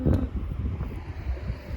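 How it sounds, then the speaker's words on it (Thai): Cool wind blows outdoors among blooming garlic chives, a low steady rushing and buffeting close to the microphone, with no talk. "ลมพัดเย็น"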